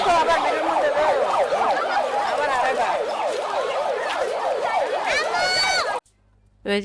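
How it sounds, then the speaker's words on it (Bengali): A wailing siren sounds at a national memorial to tell visitors to leave, its loud, rapidly rising and falling tone repeating steadily over faint crowd noise before cutting off abruptly. "সাইরেন বাজানো শুরু হয়েছে সবাই বের হওয়ার জন্য"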